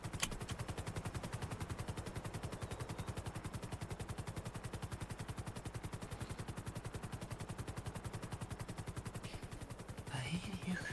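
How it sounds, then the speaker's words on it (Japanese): Machine gun in GTA V fired at a mansion, long, rapid, evenly spaced bursts at a fairly faint distance for about ten seconds, then breaking off into a brief louder clatter near the end. "今豪邸で乙女さんがマシンガン発砲して"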